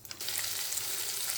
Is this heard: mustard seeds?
yes